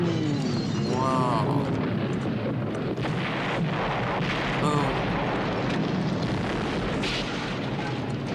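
Heavy explosions from the film The Thing roar in a dense, continuous rumble that fills the whole stretch, loud and booming throughout.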